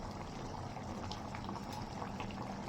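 A pot of fish curry bubbles faintly and continuously, a soft, even simmer with no talk over it.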